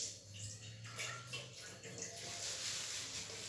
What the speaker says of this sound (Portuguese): Então, vou começar molhando aqui a pia.